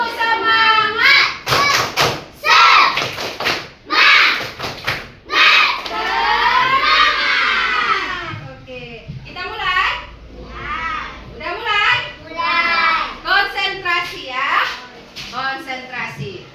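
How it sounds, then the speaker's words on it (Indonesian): Classroom children chant the 'tepuk semangat' clapping routine together, loud and close, with rhythmic claps and thumps under their voices and a teacher leading. "Ayo tepuk semangat dulu, tepuk semangat yang lama."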